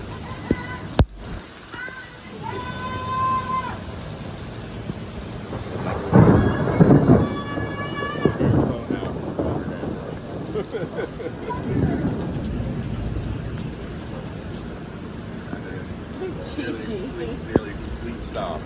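Heavy monsoon downpour with big drops pounding outdoors, a steady roar of rain with rumbles of thunder, as people talk and exclaim excitedly over it at intervals.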